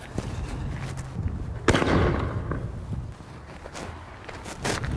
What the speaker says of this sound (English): this firework produces quite a bang